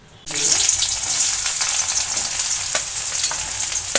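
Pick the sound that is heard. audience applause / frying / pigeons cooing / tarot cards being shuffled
frying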